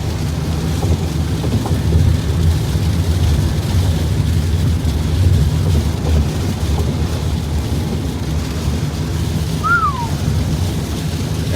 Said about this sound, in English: rain started pouring as soon as I went live